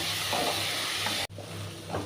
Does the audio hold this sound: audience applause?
no